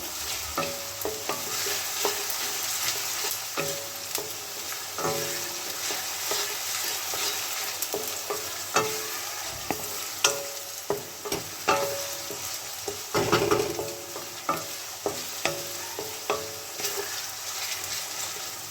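Onions frying in oil until light brown for a Bengali prawn curry, a steady close sizzle broken by frequent sharp scraping strokes of a spatula stirring through the pan.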